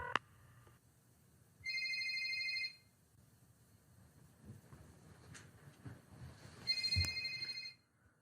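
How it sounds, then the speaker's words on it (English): Telephone ringing on the line, two bright electronic ring bursts a few seconds apart over a low hissy background, moderately quiet. "The phone is ringing."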